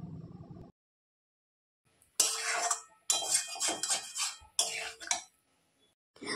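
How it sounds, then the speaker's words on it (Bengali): Cauliflower florets stir-fried with spices in a pan for a Bengali phulkopir roast, heard after a brief quiet stretch as loud bursts of scraping and clattering spatula strokes against the pan, with gaps between each burst. "তারপরে আমি এতে এই ফুলকপিগুলো অ্যাড করে দেব এবং ফুলকপির সঙ্গে মশলাটাকে খুব ভালো করে একটু কষিয়ে নেব"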